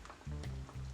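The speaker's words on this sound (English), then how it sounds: "I'm just going to let it simmer down for a bit longer" A pot of fish with pumpkin soup mix and potato simmering on the stove, giving a steady, close bubbling and sizzling wash with low rumbling surges.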